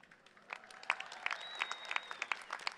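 Graduation audience at a university commencement ceremony applauding, a steady wash of many clapping hands with scattered louder claps and a faint whistle, moderately distant in a large hall.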